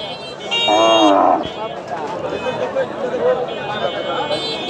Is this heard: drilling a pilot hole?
no